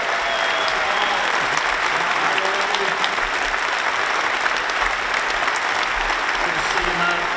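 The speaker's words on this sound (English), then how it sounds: "give Andy a big round of applause" An audience at the IAC 2017 opening ceremony in South Australia applauds astronaut Dr. Andy Thomas, a dense, steady wash of clapping from a large crowd sustained throughout, with a voice faintly audible underneath.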